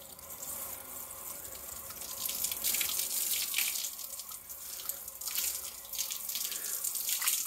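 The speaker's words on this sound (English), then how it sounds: "Okay guys, I'm gonna rinse." A car being rinsed with a pressure hose after a polish treatment: a continuous loud hiss and splash of water spraying over the bodywork, shifting slightly in intensity throughout.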